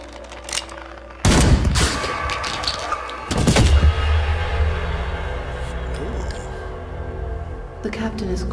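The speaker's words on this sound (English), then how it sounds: "Ooh, guns." Gunfire in the video game Grim Dawn, heavy booming bursts of shots and explosions over a loud rumbling battle backdrop, with someone talking over the game.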